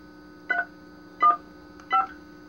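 A cordless telephone under repair dials a number, producing three short, clear keypad tones evenly spaced over a faint steady hum, with no talking.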